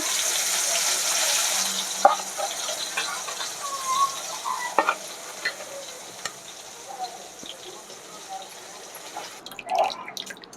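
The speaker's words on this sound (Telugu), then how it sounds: "నీళ్ళు మరిగే వరకు చికెన్ ఏపుడు చేస్తున్నామండి" Chicken frying and being stirred in a pan while water heats for pulao: a continuous sizzle broken by clattering stirs and scrapes, with a faint voice now and then.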